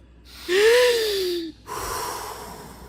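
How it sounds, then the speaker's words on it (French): A live audience at a relaxation exercise draws one big deep breath together, a loud rising group inhale swelling for about a second, then a short pause and a softer, longer collective exhale. "On va commencer par prendre une grande respiration tous ensemble."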